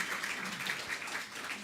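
A congregation at a Sunday church service applauds the AV team, a soft, steady wash of many hands clapping from across the room with no break.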